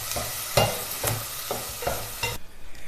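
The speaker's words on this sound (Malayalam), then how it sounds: "അരപ്പും ചേർത്ത് നന്നായിട്ടൊന്ന് മിക്സ് ചെയ്തെടുക്കുക" Masala paste is stirred into a Kerala-style fish curry in a pan, a spoon scraping in about six regular strokes over a soft sizzle, then the stirring stops.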